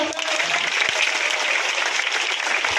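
Children at a police-run community seminar break into brief, lively applause, a dense wash of many small hands clapping together at close range for a few seconds.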